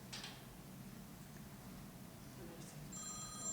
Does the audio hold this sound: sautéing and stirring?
no